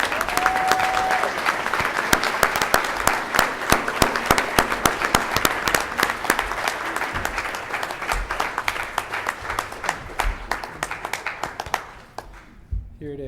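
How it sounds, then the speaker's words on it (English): Steady audience applause at a Y volunteer recognition dinner, dense clapping that holds for about twelve seconds before trailing off quickly, with a voice briefly heard over it. "give him a warm round of applause, Mr. Joey Brannon."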